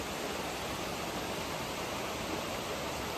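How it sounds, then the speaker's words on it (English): Steady, dense rush of a waterfall in Rouken Glen Park, Giffnock, a constant broadband roar with no pauses, moderately loud and even throughout. "think about the water, think about the sounds of the water"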